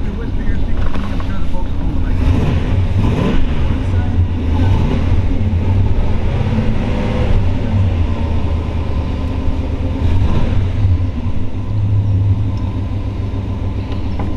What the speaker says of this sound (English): Wow, heck, we'll fire this thing up.